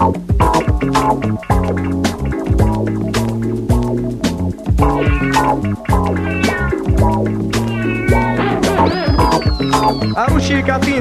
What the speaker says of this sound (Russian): Орущие коты напомнили мне